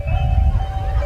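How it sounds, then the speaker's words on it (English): An ice cream truck's tinny melodic jingle plays steadily at a distance during a street parade, over a low rumble of engines and crowd noise. "you can hear the ice cream truck in the background"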